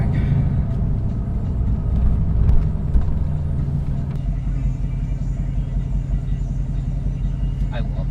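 Low rumbling cabin drone of a Mercedes-AMG GT S on the road, a steady engine and road hum that stays loud and even, with people talking over it.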